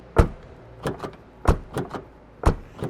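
Rear door of a 2008 Honda CR-V 2.0 i-VTEC worked by hand, a series of light, close thumps and latch clicks, several distinct knocks spaced across a few seconds.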